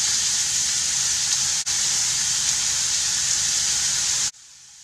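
Onions sauté in a hot pan for an egg puff masala filling, giving a steady close-up sizzling hiss that runs unbroken except for one brief dip, then cuts off sharply near the end.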